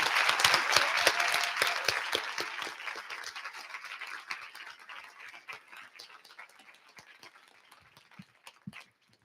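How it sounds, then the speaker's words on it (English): A convention audience at a church diocesan business session breaks into lively applause that starts full and dense, then gradually thins out to scattered individual claps. "Let's give them a round of applause"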